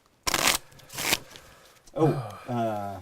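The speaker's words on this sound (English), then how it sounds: "one more shuffle." Cards for a Pandemic Legacy board game being riffle-shuffled in two quick, crisp bursts close by, followed by a few seconds of people talking.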